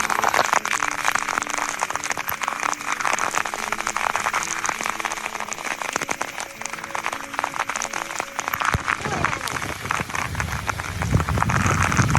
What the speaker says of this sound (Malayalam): നല്ല മഴയാണ് തന്നെ.